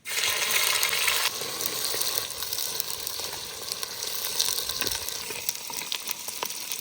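Chopped onions hit hot oil spiced with whole garam masala and cumin in a clay pot, giving a loud burst of sizzling that settles into a steady crackling fry with occasional clinks.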